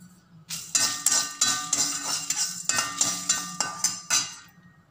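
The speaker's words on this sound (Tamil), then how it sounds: "கொத்தமல்லி விதையும் காஞ்ச மிளகாயும் போட்டு இதையும் நல்லா செவக்க வறுத்து எடுத்துக்கலாம்" Coriander seeds and dried chillies are dry-roasted in a kadai, with about ten rhythmic metallic scraping strokes of a spatula, close and fairly loud, and no voices.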